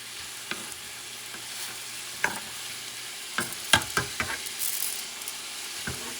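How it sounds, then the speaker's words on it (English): Dry rice grains pour into a hot frying pan for cod paella, giving a soft sizzle with scattered stirring scrapes and sharp clicks, loudest in the second half, close by with no talking. "I'm going to add the rice first"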